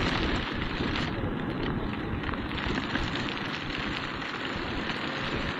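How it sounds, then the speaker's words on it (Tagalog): Heavy rain pours down during a motorcycle delivery ride, a dense, unbroken, loud hiss and roar with steady rumble underneath and no voices. "Ayan, bumuhos na yung malakas na ulan."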